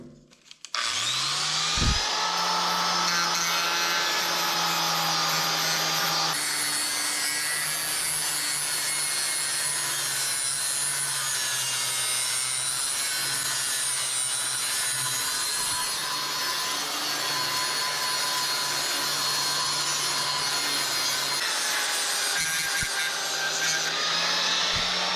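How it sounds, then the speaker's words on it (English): Angle grinder with a flap wheel trimming burrs off metal, a steady high whining grind held near and loud for about twenty-five seconds with no talking. "I like to take my flapper wheel here on the other grinder and just kind of trim that right back."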